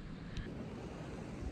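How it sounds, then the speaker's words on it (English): Strong wind buffets an outdoor spot during a November whitetail deer hunt in Alberta, a steady loud roaring rumble with gusty microphone noise and no other sounds. "It's really, really windy."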